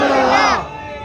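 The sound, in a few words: crowd chanting religious slogans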